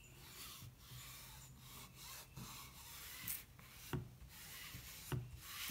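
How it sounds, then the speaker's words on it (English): A heat transfer is rubbed down by hand to smooth it onto a waxed surface, a quiet, close series of repeated scraping strokes with brief pauses between them. "I'm just gonna make sure it's smoothed down well."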